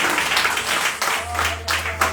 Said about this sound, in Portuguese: E você bate as palmas que exalta Ele.